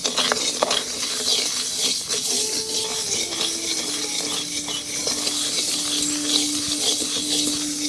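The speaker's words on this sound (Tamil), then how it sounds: "வெந்தயத்தை இப்ப நல்லா வறுத்து எடுத்துக்கலாம்" Hundred grams of fenugreek seeds are dry roasted in a pan, stirred steadily with a utensil, making a continuous close rustling patter and scraping hiss with faint tonal ringing throughout, no voices.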